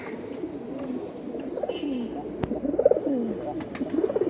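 A pair of brown-necked pigeons up for sale coo repeatedly in low, rolling calls, close and moderately loud over a faint background murmur.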